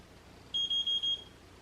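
Four short, high-pitched electronic beeps from a curling iron in quick even succession, fairly quiet, over a faint background hiss.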